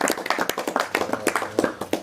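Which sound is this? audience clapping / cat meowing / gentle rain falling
audience clapping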